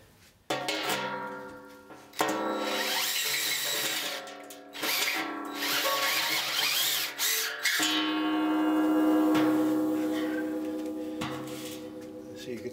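A power drill bores into silver with a bit, giving a whining, buzzing grind that stops and restarts a few times, then settles into a longer, steady run that slowly fades.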